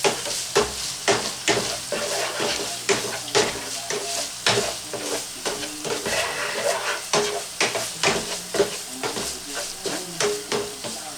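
Ground meat for homemade lasagna sizzles steadily in a hot pan while a spoon scrapes and stirs it in a rhythmic series of close, clattering strokes, with no speech.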